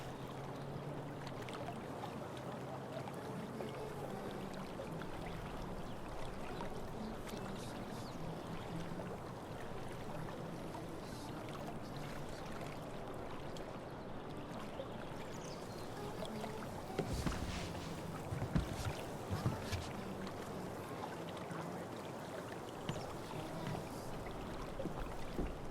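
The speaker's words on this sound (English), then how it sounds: "If not for the paddling, kayaking would be super relaxing." Steady water sloshing and paddle splashes from a kayak being paddled through a park in the video game Life is Strange True Colors, a continuous near wash with a few louder splashes late on, no talk.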